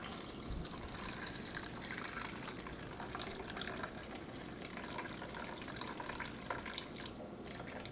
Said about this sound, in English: we're just going to introduce our warm water here